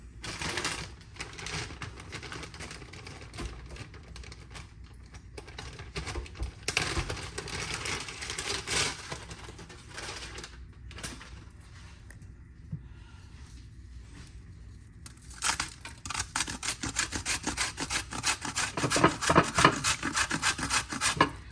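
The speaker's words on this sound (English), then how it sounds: "I use frozen ginger, and I grate it right in" Frozen ginger grated straight into a cooking pot gives a continuous scratchy rasping, with rapid repeated strokes for about twenty seconds, close and fairly loud, and a few short pauses along the way.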